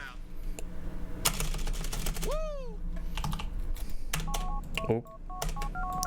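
Phone keypad tones from the Grand Theft Auto: The Lost and Damned video game: a quick series of short dialing beeps in steady rhythm, mixed with game sounds and a rising whistle-like tone, fairly loud and close.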